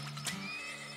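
A horse neighs in the Turmoil video game, a single bright whinny near the start with a steady musical drone beneath it, then fading into the background.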